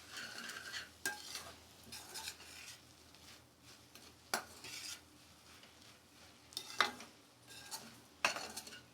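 Okra being stirred and sautéed with salt in a pan for a bhindi palya: intermittent scraping, clinking stirs with a soft sizzle beneath, close and fairly quiet, with no voices.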